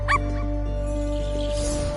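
A dog in the video game I Am Dead gives a single short, sharp bark right at the start, then only a steady low hum remains.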